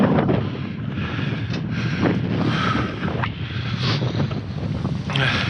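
Wind gusting against a tarp strapped over a truck trailer, a steady broadband roar with buffeting flaps and whooshes throughout, close to the microphone and continuous.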